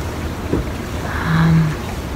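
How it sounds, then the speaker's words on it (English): Steady wind rushing at sea aboard an anchored sailing yacht, gusting around mid-20s, with a swelling gust in the middle, a low hum and water noise beneath, no voices. "the wind has died down a bit, but it's still gusting"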